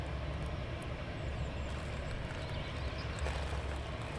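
A Lufthansa airliner at Manchester Airport makes a steady, broad roar that holds evenly throughout, heard from a distance outdoors with no talk.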